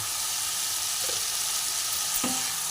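Potatoes sautéing in oil with spices for a cauliflower and koi fish curry, a steady dense sizzle with a couple of brief spatula scrapes against the pan.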